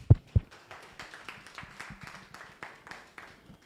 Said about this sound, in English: round of applause for Leah